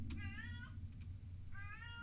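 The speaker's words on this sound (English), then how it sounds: "My cat's meowing in the background." A pet cat meows twice, two clear drawn-out calls about a second apart, sitting over a steady low hum of room background with no talking.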